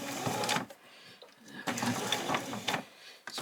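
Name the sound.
sewing machine doing a back stitch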